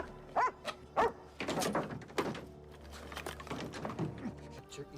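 A dog in a prison drama TV episode gives several sharp barks and yips near the start, followed by scuffling and voices talking over the background.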